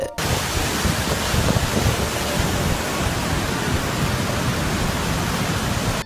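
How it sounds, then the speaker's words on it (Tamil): Heavy water pours and rushes like waterfalls over a mountain road in Manang district, Nepal, during the rainy season, a loud, steady, close roar of broadband spray with no voices. "மழை காலங்களில் இந்த ரோடு இப்படி தான் வாட்டர் ஃபால்ஸ்னால கவர் ஆகி இருக்கும்."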